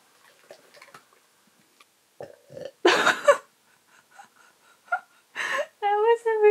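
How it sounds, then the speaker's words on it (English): A husky dog lets out a long, loud, rumbling burp after some quiet, short vocal sounds, followed by more brief noises and a whiny voice. "That was a really big burp."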